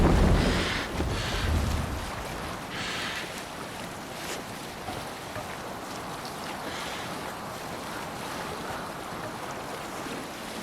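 A Viking longship under sail crosses the sea in Assassin's Creed Valhalla, with waves washing and splashing against the hull amid steady wind noise, louder at the start and settling into a continuous rushing wash.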